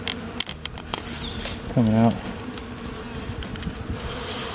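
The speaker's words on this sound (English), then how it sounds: "But a fair amount of bees out here." Honey bees hum and buzz steadily around a hive entrance, a dense insect drone with a brief voice speaking partway through.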